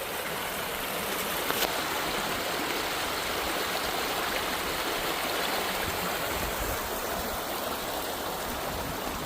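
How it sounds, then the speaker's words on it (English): Steady broadband rush of flowing water on the San Gabriel River in Texas, a shallow stream running over rocks, constant and close with no voices. "Y'all hear the sound of the river?"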